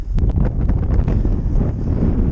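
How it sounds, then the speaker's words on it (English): Strong, gusting wind buffets the microphone during a kiteboarding session with a 12m Switchblade kite and Duotone Spike board, a loud continuous low roar with rushing surges throughout. "the wind has just picked up a lot"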